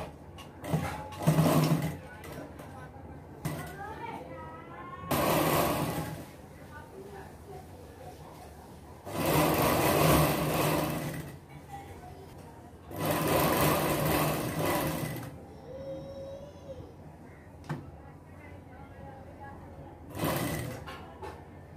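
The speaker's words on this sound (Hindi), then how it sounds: "तो हमें अंदर कपड़ा मोड़ कर पेपिंग में किनारे हमें इस किनारे में सिलाई लगाना।" A sewing machine stitches the piping edge of a baby frock in several bursts of rapid whirring, each lasting a second or two, close by, with someone talking in the quiet gaps between runs.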